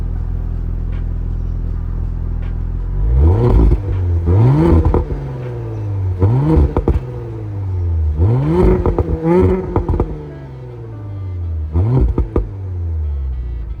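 An Audi S5 with its stock exhaust idles low, then is revved repeatedly in sharp bursts, each rising quickly and falling back to a deep rumble. The revs are loud and close, with no voices.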